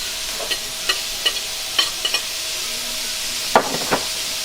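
Papayas frying in a pan with garlic and thyme, a soft continuous sizzle behind a handful of sharp scraping knocks as the pieces are stirred and turned, fairly close.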